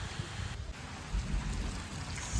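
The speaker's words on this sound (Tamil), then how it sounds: "சமைச்சு முடிய முதலே மழை வந்துட்டு" Rain falls steadily outdoors during a New Year home cooking session, a dense broadband hiss with low rumbling swells that may be distant thunder, with no voices.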